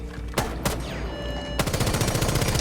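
Pistol gunfire in Rainbow Six Siege: a couple of separate loud shots followed by a rapid, steady string of close, punchy rounds fired one after another.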